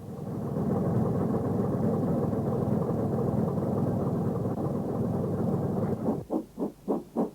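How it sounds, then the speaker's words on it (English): Great Western 4555, a steam tank engine from the 1950s, works at Snow Hill in Birmingham: a steady low rumble gives way to four distinct rhythmic chuffs near the end. "we see this Churchwood 262 tank engine number 4555 at work"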